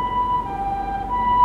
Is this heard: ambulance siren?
yes